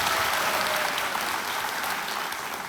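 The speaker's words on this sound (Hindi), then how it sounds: "तालियां बज जाए" Studio audience on the game show Kaun Banega Crorepati applauding, a dense steady wash of clapping from a large crowd that carries on without a break and fades slightly at the end, with no one talking over it.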